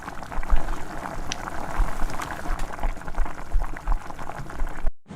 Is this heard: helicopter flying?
no